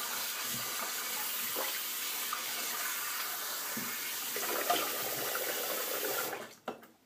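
Tap water runs steadily into a sink for face washing, a constant hiss with faint splashes, then cuts off near the end followed by a brief drip or handling noise.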